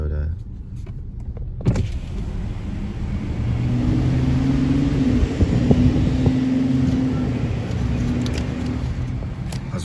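Family Toyota Camry driving, a steady low engine and road rumble with wind noise building slightly and holding throughout, heard from inside the car with faint background voices.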